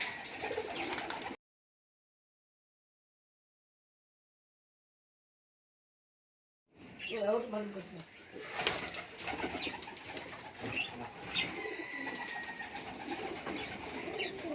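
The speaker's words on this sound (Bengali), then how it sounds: "পায়রা রয়েছে প্রচুর পায়রা" Soft cooing of giribaz high-flyer pigeons in a loft, short murmuring bursts, close and fairly quiet, after a brief dead-silent gap.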